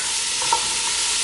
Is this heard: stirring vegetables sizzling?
yes